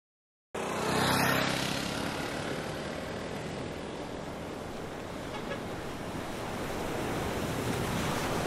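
Surf on the Vietnamese coast rolls in as a steady, loud broadband wash, with a stronger surge near the start and continuous wind rumble throughout; no voices.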